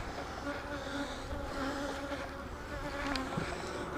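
Honey bees buzz in a steady, moderate drone during a hive inspection, several insects humming close by with slight rises and dips.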